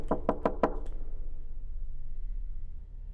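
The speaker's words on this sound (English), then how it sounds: "Who's knocking on my door?" A quick series of four or five sharp knocks on a door, loud and close, evenly spaced, then a quiet room hum with no talking.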